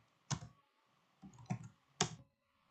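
Three separate bursts of computer keyboard keystrokes, spaced about a second apart, while a network configuration command is typed; nearby clicks with quiet gaps between them and no voices.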